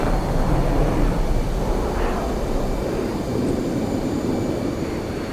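An aircraft engine roars loud and steady throughout aerobatic flight at the VFAT 2020 NASA H.A.R.M. demonstration, with only slight swells in its dense, continuous drone.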